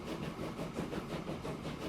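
A steam train running in the Transport Fever 2 video game, a steady mid-level rumbling chug with a faint rhythmic pulse, heard alone.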